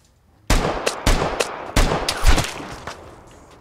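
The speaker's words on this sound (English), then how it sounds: "getting shot from this side now" Gunfire in the video game Vigor, a rapid series of sharp, loud shots in uneven bursts, some close and punchy with echoing tails, played alone without talk.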